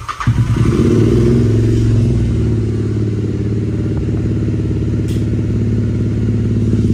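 Yamaha R15 motorcycle fitted with a dual exhaust, its engine running loud and steady close by, with a deep rumbling drone that holds throughout and no talking.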